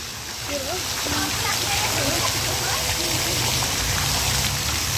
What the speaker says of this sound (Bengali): কি সুন্দরভাবে পানি পড়ছে।